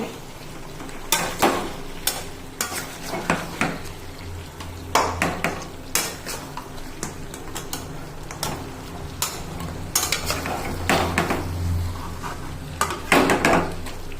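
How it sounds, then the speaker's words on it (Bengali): A metal wok clatters and scrapes in irregular bursts as food is stirred, with a low hum of cooking underneath. "কড়াইটা নড়ছে"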